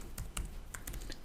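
Computer keyboard typing a website address, a short quick burst of about half a dozen close key clicks with nobody speaking.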